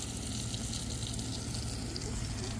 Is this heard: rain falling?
no